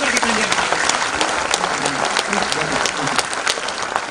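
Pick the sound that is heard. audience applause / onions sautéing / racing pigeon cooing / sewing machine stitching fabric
audience applause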